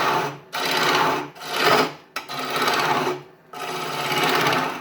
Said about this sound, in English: that little skip back there happened because I jagged it in with no support on the bevel as I went in, so it grabbed it and took it backwards